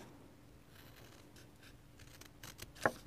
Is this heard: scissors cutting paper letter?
yes